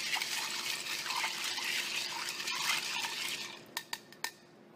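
A Manhattan cocktail is stirred with ice in a mixing glass, making a soft, steady swirl of clinking ice and liquid, then a few sharp, separate clinks at the end.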